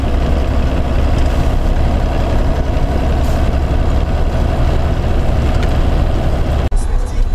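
A long-haul truck drives slowly along a highway in Tver region, its loud, low engine rumble steady and close throughout, with a brief clunk near the end.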